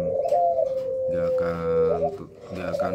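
Puter pelung turtle doves kept for breeding coo in deep, drawn-out, repeated calls, loud and close, with a couple of overlapping phrases.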